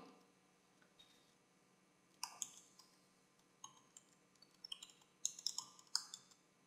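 Computer keyboard keys and mouse clicks while VBA code is written in Excel 2010, sounding as sparse single taps at first, then bursts of rapid clacking close by over a quiet background hum, with no talking.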